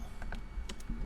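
Keys tapped on a computer keyboard while entering an email address, a short run of close, light clicks in an uneven rhythm with no talking.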